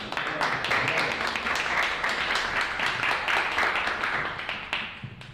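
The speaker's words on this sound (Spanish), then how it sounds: "Entonces, un aplauso para Pamela." Conference audience applauds to welcome a speaker, many hands clapping in quick overlapping bursts that hold steady and then begin to fade at the end.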